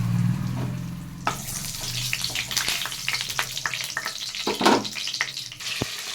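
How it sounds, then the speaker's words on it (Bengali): Ghee with cardamom, cloves, cinnamon and bay leaves fries in a pan with a loud, close, steady sizzle, crackling and popping throughout, with a few scraping stirs. "এদিকে কড়াইতে দিয়ে দিচ্ছি আমি ঘি, দুটো এলাচ, 4টে লং আর একটু দারুচিনি, সঙ্গে দিয়ে দিচ্ছি দুটো তেজপাতা।"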